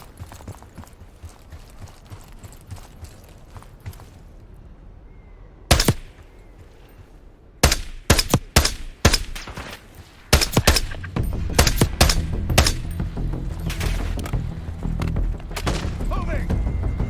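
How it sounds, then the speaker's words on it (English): Gunfire exchange in the Call of Duty Black Ops 6 campaign: sharp single shots, then bursts of rapid automatic fire and booms growing denser and louder, mixed with voices and a steady rumble. "There! Exchanging fire!"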